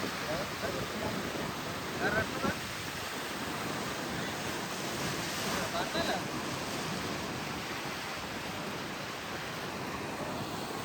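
Continuous roar of surf and wind at a beach in Goa near Aguada Fort, broad and steady, with faint bursts of voices now and then.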